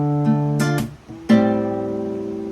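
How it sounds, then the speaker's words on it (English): Acoustic guitar playing open chords for 7 Hours by Dominic Fike: a few quick strums, a short muted gap, then one chord strummed and left ringing as it slowly fades. "If you wanted to do the open chord version, it would sound like this."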